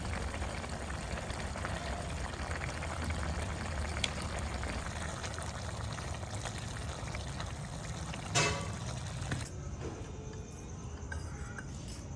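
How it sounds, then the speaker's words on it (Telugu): A continuous low bubbling and hiss of water boiling in a pot of kurma, steady throughout, with a brief clatter before the sound drops away. "పది నిమిషాల పాటు నీళ్ళు పోసి ఉడికించుకుందాం"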